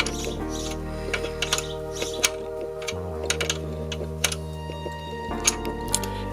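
Short tool clicks and ratcheting ticks as a lock nut is tightened on the chain adjuster of a Yamaha YBR 125 motorcycle, light irregular taps over a faint background hum.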